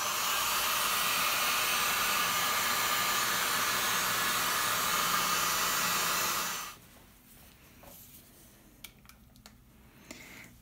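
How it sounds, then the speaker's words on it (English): A cheap Lidl heat gun blows hot air over acrylic pour paint, a loud steady close whoosh for about seven seconds that cuts off abruptly, leaving quiet room noise with a few faint clicks. "I've got this heat gun, cheap one from Lidl, and I'm gonna use it to create more cells."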